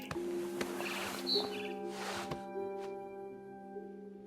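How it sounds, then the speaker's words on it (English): A barn swallow chirps near a nest outside a window in the video game What Remains of Edith Finch, sending a few short, faint tweets over a quiet ambient hum with soft rustling. "Then I heard chirping outside my window."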